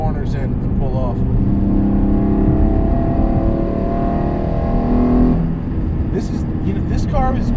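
Hyundai Genesis Coupe 3.8L V6 on a race track, engine droning loudly and steadily under acceleration from inside the car, with a brief shift dip and a voice speaking briefly at the start and end.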